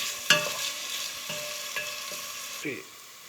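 Sliced onions fry and sizzle in a pan while a spoon stirs them in several scraping strokes, each with a clatter, over a steady hiss of hot oil.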